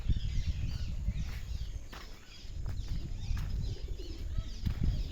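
Pigeons coo softly at a rural farmstead, low repeated murmuring calls over steady outdoor background noise, with an occasional brief flutter.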